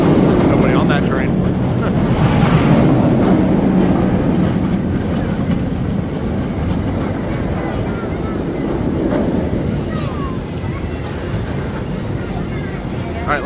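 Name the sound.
inverted roller coaster on quiet lift hill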